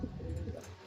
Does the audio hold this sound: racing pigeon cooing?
yes